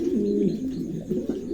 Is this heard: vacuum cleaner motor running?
no